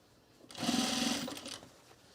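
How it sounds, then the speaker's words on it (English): A sewing machine stitches a fabric seam in one short, steady run of about a second, close and fairly loud, then winds down into quiet. "just focus on the seam that you're sewing on, just that little bit"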